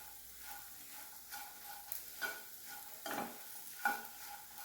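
Crispy corn stirred in a frying pan over a low gas flame, with a soft steady sizzle and a few scraping stirs of a utensil standing out, close and fairly quiet.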